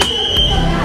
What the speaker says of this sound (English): Can you get away with pulling a fire alarm?